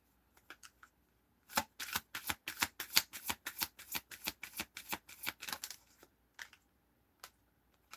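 Playing cards riffled and shuffled close up, a rapid burst of crisp flapping snaps lasting several seconds, preceded and followed by a few isolated taps, with no talk.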